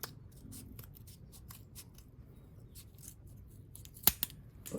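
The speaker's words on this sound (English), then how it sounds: "I'll just snip that up here." Scissors snipping material to make tracks for a model bulldozer: faint rustling handling of material, then a sharp close snip followed by a second softer cut near the end.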